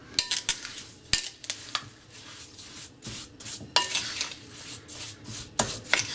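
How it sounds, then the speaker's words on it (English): A spoon stirs a dense, dry cassava and coconut batter with salt for kasaba dokoen, giving a run of close scraping strokes and sharp clinks against the bowl, with no talk. "And next, we're gonna give this a good stir."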